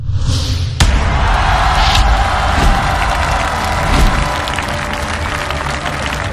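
A large studio audience at a televised Chinese traditional-music competition applauds a guest coming on stage, the loud, dense clapping and cheering opening with a sharp hit and running on steadily throughout.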